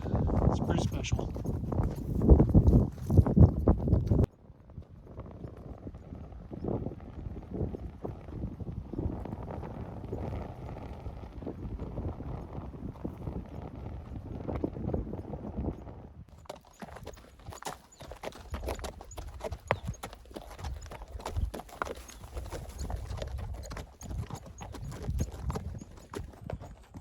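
Horse hooves clip-clop at a steady walking rhythm as a rider heads down a high mountain ridge at sunrise on a solo elk-hunting trip, close and clear, with a brief whinny and a person talking.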